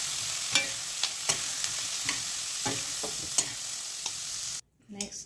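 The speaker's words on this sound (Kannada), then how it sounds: "ಸ್ವಲ್ಪ ಈ ಥರ ಎಣ್ಣೆಗೆ ಫ್ರೈ ಮಾಡಿಕೊಂಡು ಎತ್ತಿಟ್ಕೊಳ್ಳೋಣ." Capsicum fries in oil in a kadai, a steady close sizzle broken by regular scraping stirs, then cutting off abruptly near the end.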